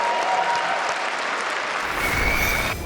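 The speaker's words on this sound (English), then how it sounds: "Please give a round of applause for Tom60229." Crowd applause at a Hearthstone esports tournament swells in, a dense wash of clapping that grows louder and fuller midway, continuing without any voices.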